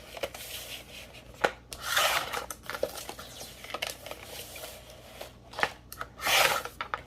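Scissors snip through scraps of paper being cut into pieces for handmade envelopes, giving short rasping cuts in a few uneven bursts, close by and fairly quiet.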